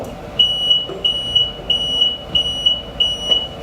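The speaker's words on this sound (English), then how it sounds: "that smoke alarm goes off" A household smoke alarm chirps in repeated short, shrill beeps at a steady rhythm, about three per second in pairs, over a quiet room background.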